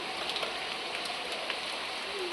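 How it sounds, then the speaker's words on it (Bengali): Rain falling on leaves and plants makes a faint, even, continuous hiss with scattered soft drop taps. "আমার তো ভীষণ ভালো লাগে বৃষ্টি"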